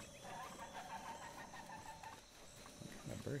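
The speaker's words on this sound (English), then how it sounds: "What kind of bird is that?" Bird calls in the video game Zelda: Breath of the Wild: clucking, fowl-like chirps repeating over a steady game ambience, fairly close and moderately loud, with no talking.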